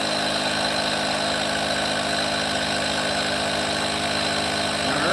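A car engine runs steadily while driving, giving a constant low hum and rumble at an even level throughout with no talking.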